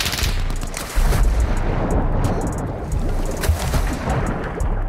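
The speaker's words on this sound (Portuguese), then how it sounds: "Tem gente atirando na água," Gunfire in the video game Call of Duty Warzone 2.0 crackles through a dense, rumbling mix, with loud burst shots near the water over heavy low-end noise.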